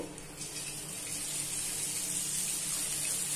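Three pieces of soft dough sizzle in hot oil with a steady, hissing crackle that builds slightly and holds, fairly quiet and close, with no talk.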